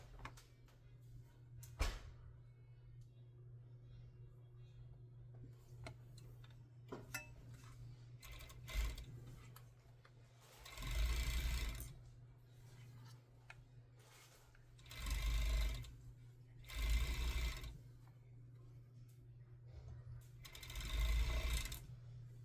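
A sewing machine stitches the leg bands on bummies in short bursts of quiet whirring, separated by soft rubbing and handling of fabric at close range in a calm room.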